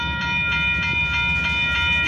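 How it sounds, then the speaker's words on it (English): Freight train moving slowly in reverse on a rail line beside a yard in Houston, a steady low rumble with faint rhythmic wheel clicks and a sustained tonal whine, close and continuous. "he might be backing up to make room for another train"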